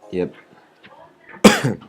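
A couple of short, rough coughs close to the microphone, with a pause between them and no other sound around.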